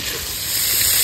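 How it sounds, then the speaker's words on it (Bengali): Paneer fries in white cooking oil, giving a brief, steady hiss of sizzling that rises slightly in level toward the end. "এবার পনিরগুলো ভেজে নেব"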